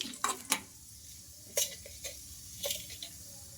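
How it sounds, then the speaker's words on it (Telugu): Chana dal and urad dal frying in oil in a kadai, a faint low sizzle punctuated by a few sharp scrapes and clinks of a spoon against the pan at irregular intervals, with nobody speaking. "ఇంకా ఈ పప్పు కాస్త ఫ్రై అయిపోవాలి మనకు."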